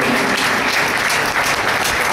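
Loud, dense applause fills a hall as an audience welcomes a guest onto the stage at a talk on indigenous medicine, continuous clapping from many people with no voices over it.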